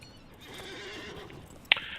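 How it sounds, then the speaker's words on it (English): A horse in the Lord of the Rings Online video game gives a clear whinny, a single close call ending in a sharp bright burst, with a faint clip-clop of hooves behind it. "Get my horse back."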